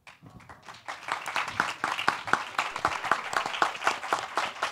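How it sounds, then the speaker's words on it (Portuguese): An audience at a literature and technology discussion panel begins clapping sparsely, then builds into steady, moderately close applause with distinct individual hand claps. "vocês também merecem os nossos aplausos"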